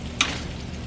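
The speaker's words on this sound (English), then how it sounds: "It's sizzling great." A quiet, steady sizzle of a bison burger frying in butter in a hot skillet, with one brief sharp tick near the start.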